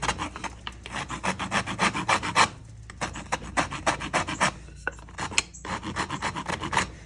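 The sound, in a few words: filing down the end of a wooden club handle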